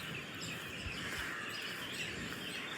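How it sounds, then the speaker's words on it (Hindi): Birds chirp faintly outdoors, with soft, scattered calls over a quiet, steady background hiss. "अगर आपको आवाज़ आ रही हो ना, पंछियों की आवाज़ आ रही होगी आपको।"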